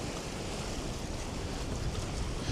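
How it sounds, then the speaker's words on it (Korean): Sea waves surge and wash continuously beside a coastal island walkway on a windy day, a loud, unbroken roar mixed with wind buffeting the microphone. "파도 소리도 많이 들리고"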